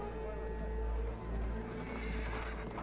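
Horses at a Sunday morning horse market in Kyrgyzstan, where a clear neigh rises over hooves clopping nearby and a low, busy outdoor background.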